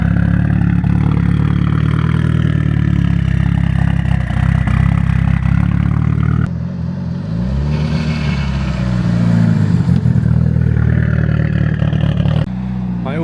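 A 1000hp Mitsubishi Evo 8 idles loud and close with a deep, lumpy, uneven burble, the tone shifting slightly midway as the car is walked around.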